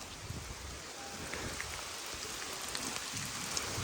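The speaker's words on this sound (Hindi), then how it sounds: "बारिश तेज़ हो गई है" Heavy rain pours steadily onto a village mud house in Punjab, a dense, continuous hiss of drops on the roof and ground that stays constant and close throughout, with no voices.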